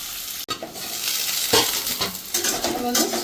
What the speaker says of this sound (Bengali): পেঁয়াজটাকে একটু ভালো করে আমি ভেজে নেব 2 মিনিট।